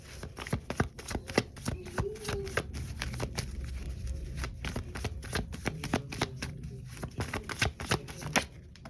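A deck of tarot cards is shuffled close by in a quick run of crisp riffles and flutters, with brief pauses between bursts.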